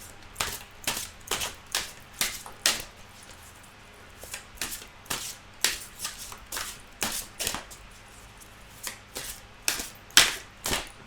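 Tarot cards being shuffled by hand, a steady run of crisp riffling snaps and slaps, close and fairly loud, with no talking.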